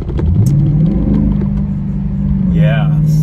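A car with a Pedal Commander throttle controller gives a low, steady engine rumble that swells slightly as it accelerates, heard close up from inside under continuous talk.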